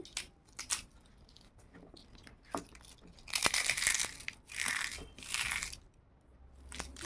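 Crisp rice papad snaps and crackles in a few sharp breaks, then three longer bursts of brittle crumbling, close and fairly loud in a quiet room.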